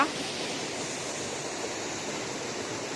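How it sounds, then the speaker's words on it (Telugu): The Ramasari waterfall in the Lankamala forest, a tall fall dropping into a deep valley, gives off a constant broad rushing roar that holds steady and fairly loud the whole time with no breaks. "చాలా పెద్దది వాటర్ ఫాల్ ఇది"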